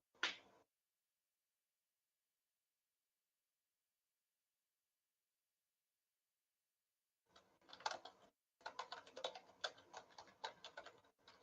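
Clicks of a computer keyboard during a tabletop game session, a short burst at the start, then a long silence, then quick uneven runs of faint, close keystrokes.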